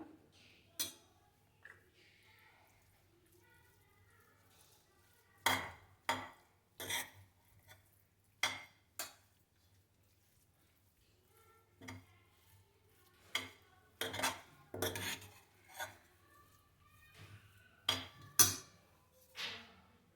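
Pudina (mint) rice being stirred and mixed in a pot, heard as scattered sharp spoon scrapes and clinks against the metal, irregular and close, with quiet gaps between bursts.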